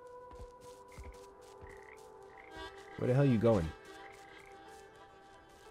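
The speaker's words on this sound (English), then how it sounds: "Frog, go away." A frog in the video game Papo & Yo gives a short burst of deep, throbbing croaks partway through, beneath a soft game soundtrack, while a person speaks over it.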